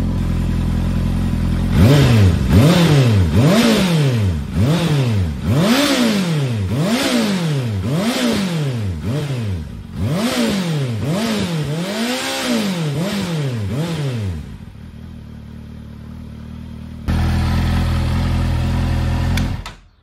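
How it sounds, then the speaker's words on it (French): Honda CBR650R motorcycle fitted with an Ixil exhaust, revved repeatedly up to 6000 rpm, about a dozen loud rising-and-falling rev sweeps in steady rhythm, then settling to a rough idle, cutting out and restarting briefly. "Donc, je vais la faire chanter jusqu'à 6000."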